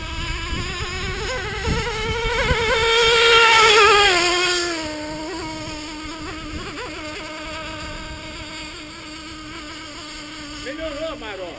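A small SG 21 Picco 45EX nitro engine revs with a high, buzzing whine that climbs to a loud peak, then settles to a steadier, quieter drone, with people talking faintly over it.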